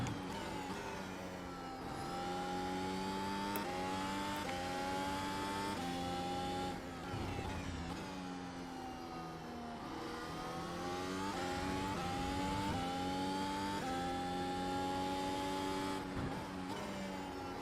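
A Mercedes W13 Formula 1 car in the iRacing game holds full throttle with a continuous high-pitched engine scream that rises and dips slightly through gear changes and corners, loud and steady throughout.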